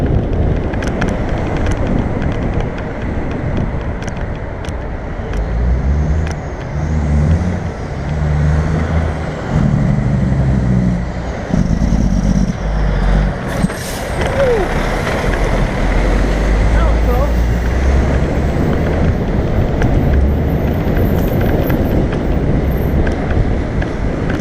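A truck passes close by a cyclist on a bridge in New York City traffic, its heavy low rumble and roadway roar building and lingering amid strong wind buffeting the microphone; a voice speaks briefly.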